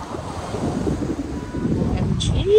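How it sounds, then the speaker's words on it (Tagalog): Sea waves at a beach resort in San Antonio, Northern Samar, give a steady, rumbling wash of surf mixed with wind buffeting the microphone, swelling slightly toward the end. "Eto ngayon ang dagat, my God, super ganda."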